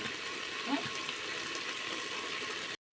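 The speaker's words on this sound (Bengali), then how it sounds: "আলুগুলো বেশ ভালোভাবে কষিয়ে নিচ্ছি, যাতে আলুর সাথে মশলাটা বেশ ভালোভাবে মাখো মাখো হয়" Steady sizzling of potatoes stir-fried with spices in a pan, a continuous close hiss throughout that cuts off abruptly at the end.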